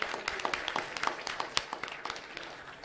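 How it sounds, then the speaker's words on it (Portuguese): A church congregation claps in scattered, uneven bursts that carry on for a few seconds at a moderate distance. "Você pode aplaudir ao Senhor,"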